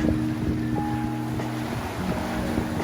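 Sailboat sailing close hauled on a reefed main in a northwest wind at 17 to 20, during a solo 24-hour race to Mackinac Island: steady wind rush and water wash against the hull, with low tonal hums from rigging or gear throughout.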